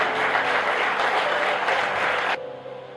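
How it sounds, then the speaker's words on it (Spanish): A church congregation at a prophetic gathering in Argentina bursts into loud, full applause, sustained hand clapping filling the room that cuts off abruptly after about two seconds, leaving quieter room tone. "Denle una aplauso."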